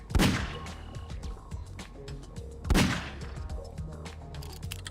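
Gunfire in Garry's Mod, two heavy booming shot bursts with sharp onsets, the second around mid-clip, each trailing into rattling debris and smaller clicks, with a Thai-speaking voice faintly underneath.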